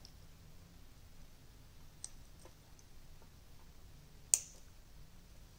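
Jewellery gear wire is snipped off with cutters, giving two small, sharp clicks, a faint one and then a louder crisp snap, close up against a quiet room hum.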